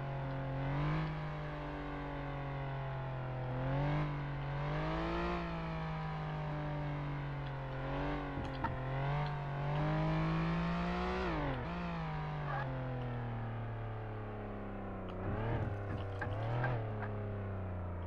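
A police car in the Flashing Lights driving game cruises along, its engine droning steadily and rising and falling in pitch as it accelerates and shifts, heard close and alone without talk.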